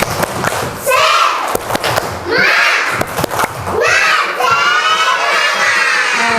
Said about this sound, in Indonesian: Kita coba lo tepuk semangat.